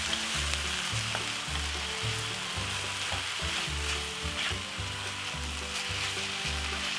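Minced meat for spaghetti bolognese frying in a pan with black pepper, a steady close sizzle broken by repeated rhythmic scraping strokes as it is stirred, with no voices.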